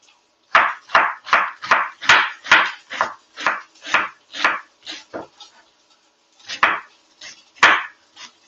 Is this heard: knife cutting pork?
yes